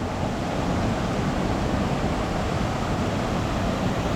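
A constant, roaring wash of falling water fills the scene, loud and unbroken from start to finish.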